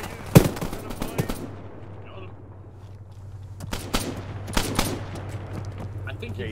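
Covering gunfire in a video game: sharp shots and short bursts crack out in scattered clusters over a steady low engine-like drone, loud and close, with voices partly present.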